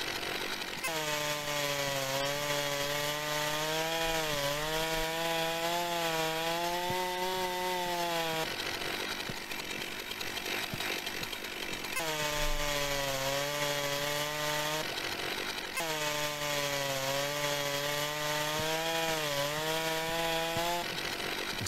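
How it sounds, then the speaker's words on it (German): A chainsaw in the video game Forstwirtschaft Simulation revs loudly in long sustained bursts with wavering pitch, cutting in and out with brief gaps between runs. "Ich glaube, ich nehme jetzt einfach die Kettensäge und zersäge den Traktor."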